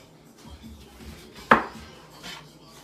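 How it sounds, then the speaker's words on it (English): A knife slices through a lemon on a board, a single sharp, clear cut against the surface standing out amid quiet kitchen clatter and faint handling, with a softer follow-up scrape shortly after. "What we're going to do is get this lemon sliced up."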